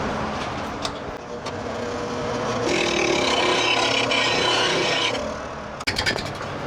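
Sharpening a woodturning tool held against the tool rest gives a continuous, close abrasive grinding rasp that swells louder for a couple of seconds in the middle, then eases, ending with a few short scraping taps.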